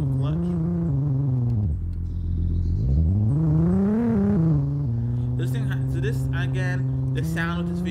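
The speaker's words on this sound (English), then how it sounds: "The sound of this vehicle is just not what it used to be" A 2017 Lexus 450h hybrid SUV engine revs close and loud, its tone dropping low, then climbing and rising through a sweeping acceleration before settling into a steady drone.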